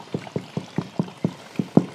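Knocks on a nearly full water tank on an off-grid rural hillside water supply give dull, heavy thuds, about nine evenly spaced hits that grow slightly louder, close and alone.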